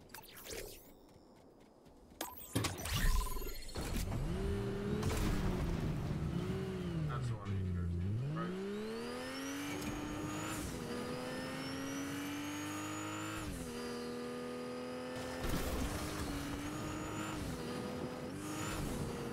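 A car in the Fortnite video game drives, its engine tone rising and falling through gear shifts and revs with tire noise. The engine note is loud and continuous, with bursts of game effects near the start.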